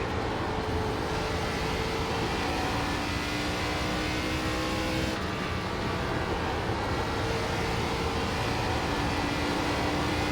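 An ARCA race car engine in the iRacing simulator laps the Bristol oval at full throttle, a loud continuous high-pitched drone with steady tone and a slight shift midway, no voices.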